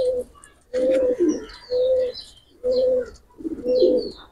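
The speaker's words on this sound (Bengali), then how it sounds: "দুইটা কবুতর ছেড়ে দেখাচ্ছি" A pair of Salera Teddy pigeons coo close by in five deep, rhythmic bursts separated by short pauses, with faint chirps in between and no talking.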